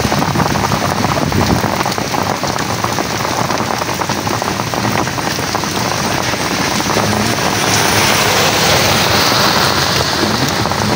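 Heavy rain pours steadily on surfaces, a dense continuous wash of drumming drops with no voices, loud and close throughout.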